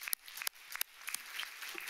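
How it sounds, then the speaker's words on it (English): An audience claps for a panel of speakers at a health discussion, a faint scattered patter of individual claps with a few sharper hits, fairly distant and sparse. "So let's give a big clap for our panelists."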